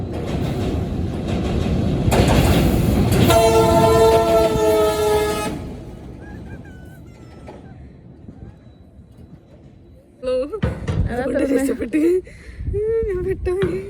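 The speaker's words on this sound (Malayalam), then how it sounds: "ചെറിയ ട്രെയിൻ" A loud train rumbles past with a blaring horn, then fades away; afterwards people talk nearby.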